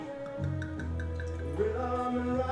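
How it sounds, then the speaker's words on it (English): Wine poured into a glass, a continuous gurgling trickle with rising tone as the glass fills, close and clear over about two seconds with no talk. "Pour a little for yourself first."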